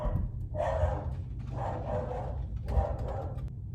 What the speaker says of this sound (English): sorry, my dog was barking